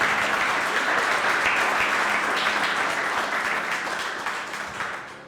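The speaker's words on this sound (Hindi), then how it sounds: "सब जो है वो जोर से ताली दें।" A church congregation applauds loudly and steadily for the whole stretch, a dense crowd of hand claps that fades slightly toward the end.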